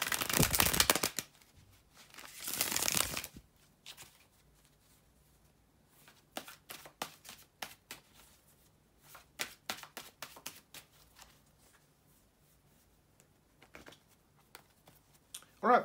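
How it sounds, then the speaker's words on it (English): Tarot cards are shuffled by hand, with two dense riffling bursts followed by a series of crisp, intermittent card snaps and taps, close and fairly quiet. "bear with me a second, guys, to shuffle the tarot cards"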